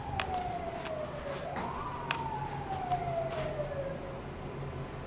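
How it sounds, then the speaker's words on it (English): A police-style siren wails along a Los Angeles street, its tone sweeping slowly down, jumping back up and falling again, heard at moderate distance over steady traffic rumble. "The siren is like coming down the street."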